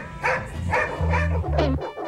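Several dogs bark and yip at a dog training session, loud, close and repeated in quick bursts with whining between them, mixed with a busy crowd.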